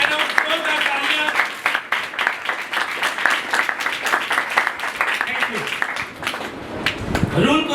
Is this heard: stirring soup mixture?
no